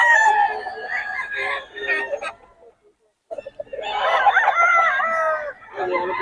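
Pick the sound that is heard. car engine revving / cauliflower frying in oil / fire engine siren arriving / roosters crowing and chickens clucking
roosters crowing and chickens clucking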